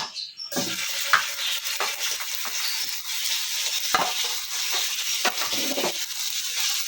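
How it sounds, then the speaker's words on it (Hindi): Ginger garlic paste sizzles in a hot pan with frequent scraping stirs, a steady close frying hiss punctuated by utensil strokes and no speech. "इसे हम हल्का सा फ्राई करेंगे।"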